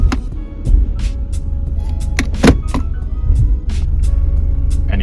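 A car's transmission clunks hard when shifted between gears, giving several sharp, irregular knocks and rattles inside the cabin over a steady engine hum, with no talking.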